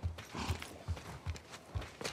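Horse hooves clip-clop at a steady walking pace, about five evenly spaced hoof strikes, fairly close and moderately loud, in The Last of Us Part 2 video game.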